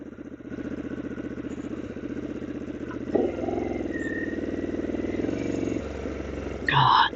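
A motorcycle ridden on the road in road mode gives a steady mid-pitched engine drone that steps up in pitch and loudness partway through, then shifts again, with a brief louder rattle at the end.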